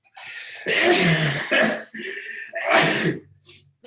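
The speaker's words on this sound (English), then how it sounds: "I apologize to everybody that has to hear that sneeze" A loud, close sneeze bursts out, followed by a second sneezing fit and a short breathy sound afterward.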